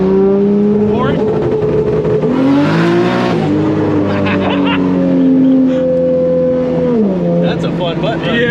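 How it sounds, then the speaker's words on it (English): A 2JZ-swapped BMW E30 with a dual-clutch transmission accelerates hard, its loud engine note climbing through revs with quick gear shifts and dips, heard from inside the car with people talking over it. "This car actually drives really nice."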